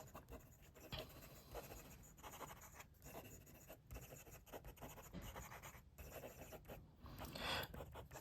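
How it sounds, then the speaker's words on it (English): Fifty4t Titan SL slim-line fountain pen nib scratching quickly across paper, a faint, steady run of rapid strokes with brief pauses between words, alone and close. "Quick writing."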